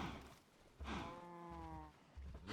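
A Minecraft cow lets out a long, drawn-out moo, close and clear, with soft thuds of in-game movement around it.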